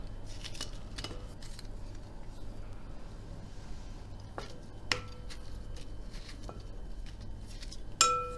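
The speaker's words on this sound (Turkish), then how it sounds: "İri iri doğruyorum." Saffron milk cap mushrooms being coarsely chopped, a few sparse knife taps on a board and clinks of utensils against dishes, close and fairly quiet, with a sharper clatter near the end.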